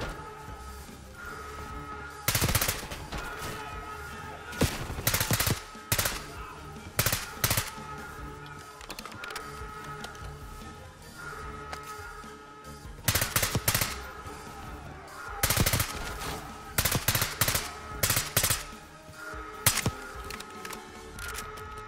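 Rapid bursts of automatic gunfire while fighting enemies in Call of Duty: Black Ops 6, loud clustered volleys and single cracks recurring across the stretch over a low game backdrop, no talk.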